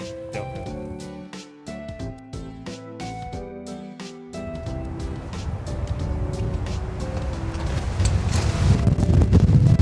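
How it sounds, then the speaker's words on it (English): Strong wind blows across a camera on a gimbal outdoors, a low rumbling roar that swells and grows louder toward the end, following a stretch of music. "It's so windy, it's blowing the gimbal out of place."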